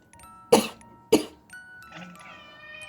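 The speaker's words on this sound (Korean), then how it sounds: "엄마 기침나." Two sharp human coughs about half a second apart, followed by a cat's drawn-out, rising meow-like vocal that trails off softly, all close and indoors.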